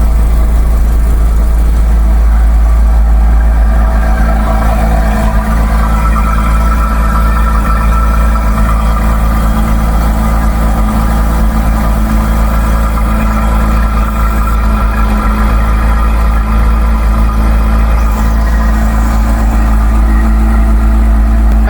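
A Porsche Cayman engine idles steadily while warming up, a loud, even low drone that holds unchanged for over twenty seconds with no voices.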